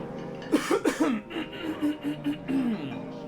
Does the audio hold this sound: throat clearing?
yes